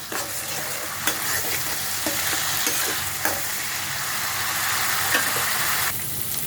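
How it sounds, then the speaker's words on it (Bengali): Spice masala fries in a pan with a loud, dense, unbroken sizzle, while a spoon stirs and taps against the metal every second or so, with no speech. "আমি এখন মশলাটা একটু কষিয়ে নেব"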